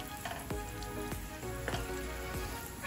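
Sesame seeds toasting in a dry frying pan for mole, giving a steady soft crackle and sizzle with a few sharper scrapes or stirs across the pan, close and continuous with no voices.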